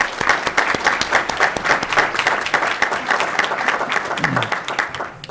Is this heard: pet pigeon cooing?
no